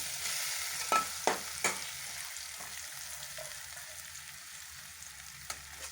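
Crushed pigeon peas stir-fry in a pan with a soft, steady sizzle, punctuated by a few sharp spatula clacks early on and one more near the end, fairly quiet with no talking.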